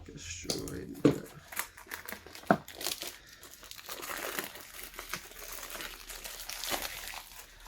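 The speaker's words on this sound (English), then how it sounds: "let's just go straight into it and cut this plastic film off" Xiaomi Mi Buds 3T Pro earbuds box has its plastic film cut and torn away with scissors, giving close crinkling and snipping bursts, then softer rustling and crackling as the wrap is pulled free.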